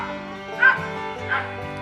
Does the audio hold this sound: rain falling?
no